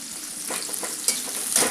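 Onion and cauliflower fry in a pan, giving a steady bright sizzle with a few soft stirring scrapes, close and continuous for under two seconds with no talking.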